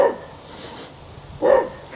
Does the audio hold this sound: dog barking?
yes